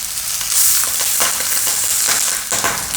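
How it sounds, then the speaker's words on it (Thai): Loud, continuous sizzling and crackling of a pork leg searing in a hot pan, with occasional sharper pops. "แต่เราใช้กระทะเผาค่ะไม่ต้องไปก่อไฟให้ยุ่งยากเลยนะคะ"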